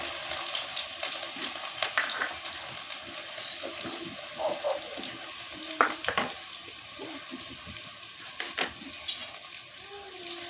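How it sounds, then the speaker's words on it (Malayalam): Chopped shallots, carrot, capsicum, tomato and green chilli sizzle and crackle in hot oil in a pan, a steady close frying hiss with occasional stirring clinks and scrapes, no voices. "ബാക്കിയുള്ള ചേരുവകളായ ചെറിയ ഉള്ളി അരിഞ്ഞതും, ക്യാരറ്റ് അരിഞ്ഞതും, കാപ്സിക്കം അരിഞ്ഞതും, തക്കാളി അരിഞ്ഞതും, പച്ചമുളക് അരിഞ്ഞതും എണ്ണയിലേക്ക് ഇട്ട് കൊടുക്കുക."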